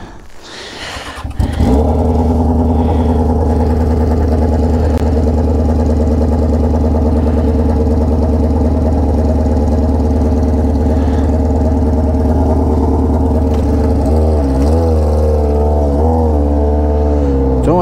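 Yamaha XJ6 motorcycle fitted with an Atalla 304 stainless steel straight-pipe exhaust and Fuel Tech tuning, starting up and holding a loud, steady growling idle close to the microphone, with a few throttle blips near the end.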